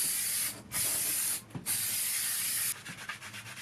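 Aerosol can of spray adhesive hissing in long bursts while coating insulation inside a cargo van, with two short breaks between sprays and a final stretch of quicker, sputtering pulses, close by and alone.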